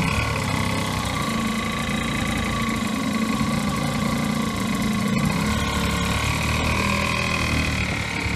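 Air-cooled Terhi 385 boat outboard motor idling steadily after a restart, a continuous mid-pitched engine drone with vibration, close and fairly loud, no talking over it.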